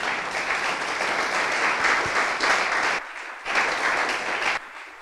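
A church congregation at a French-language service claps steadily and loudly for several seconds after a scripture reading, with a brief dip before the applause swells again and then tapers off, and no talking over it.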